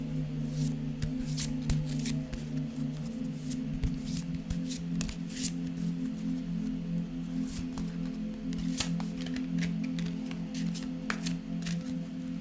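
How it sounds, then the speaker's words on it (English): A deck of cards is shuffled repeatedly up close in a quiet room, giving crisp riffling flutters and sharp snaps at irregular intervals over a low steady hum, with no voices. "I like listening to card shuffling"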